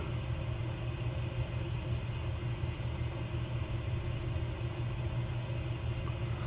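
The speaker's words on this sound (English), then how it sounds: "I like being able to look out the side and see the engine and just hear the turboprop, the motors." Steady engine drone from a Beechcraft 99 turboprop in Microsoft Flight Simulator, a continuous low rumble with constant hum, even and unbroken throughout, heard alone without talk.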